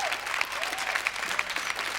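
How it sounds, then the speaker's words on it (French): A studio audience at a French television show applauds steadily, a dense, even wash of many hands clapping continuing throughout without pause, with a faint voice underneath. "Sous les applaudissements de la foule."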